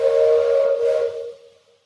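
A steam train whistle gives one loud, sustained hooting blast with a little hiss of steam, then trails off.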